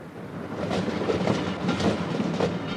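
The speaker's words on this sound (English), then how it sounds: "a special electrification works train is moving into place" A British Rail electrification works train rolls along the track at night near Norwich, a steady rumble with rhythmic wheel clatter on the rails, continuous and fairly close.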